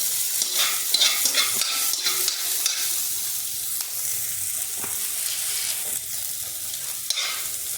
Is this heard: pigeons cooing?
no